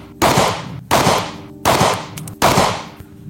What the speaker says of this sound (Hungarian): erre lövünk még egy 5-öst a P10C-vel